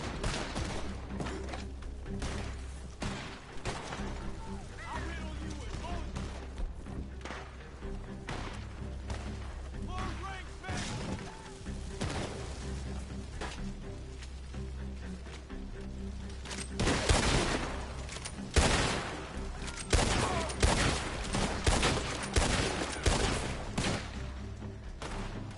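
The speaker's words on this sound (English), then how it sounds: "I don't think anybody deserves an award for sharpshooting of the machine gun." Machine gun fire in Red Dead Redemption 2 Online, rapid bursts and scattered volleys of gunshots with thuds, heavier and louder toward the end, continuous over a low game rumble.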